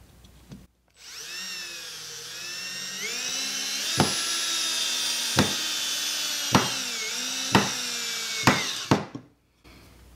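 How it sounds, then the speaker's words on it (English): A Milwaukee M18 cordless hammer drill whirs in repeated bursts at maximum torque, its motor pitch rising and falling as it drives a deck screw into wood, with sharp clicks between pulses. "let's start off with driving a standard wooden deck screw"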